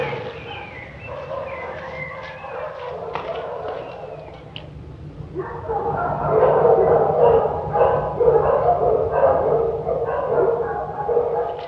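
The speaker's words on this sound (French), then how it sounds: "Ces chiens." Several dogs kept at a country house bark and yip, starting moderately and growing into a louder, denser chorus of overlapping barks in the second half, with faint background sounds.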